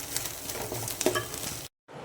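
Cooked food for a mini kozhukattai evening snack being stirred in a pan, with close scraping and light sizzle running steadily for under two seconds before a brief silent gap.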